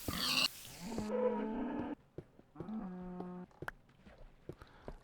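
Two short, synthetic-sounding Minecraft cow moos, one after the other, with a few light clicks and taps around them.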